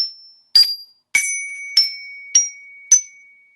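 A bell tree, a cymbal-bell percussion instrument, is struck six times in a slow, uneven sequence. Each clear metallic ding is loud and close and rings briefly in a quiet studio.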